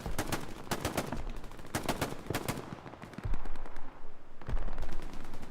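Machine gun fire in the Battlegrounds video game, loud rapid bursts of automatic shots cracking in quick succession, then pausing before heavier, denser gunfire rumbles near the end, with no speech.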